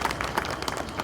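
Audience applause at a Lok Virsa book launch ceremony, a steady dense patter of clapping from a crowd held at moderate level throughout, with no voices over it.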